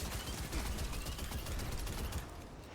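Rapid, continuous gunfire from a Destiny 2 firefight against Dregs and a Scorch Vandal crackles densely throughout, then eases slightly at the end.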